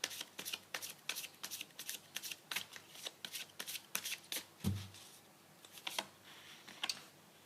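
Oracle tarot cards are shuffled by hand, giving a steady run of quiet papery riffles and soft flicks, close up and without speech.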